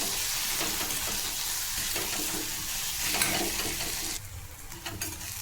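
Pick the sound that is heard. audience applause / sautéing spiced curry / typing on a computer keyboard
sautéing spiced curry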